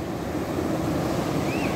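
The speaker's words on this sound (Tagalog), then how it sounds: "Ang lakas ng alon." Strong waves at high tide on Galas Beach in Dipolog City roar in bad weather, a steady, dense wash of surf blended with wind buffeting the microphone, with no clear breaks.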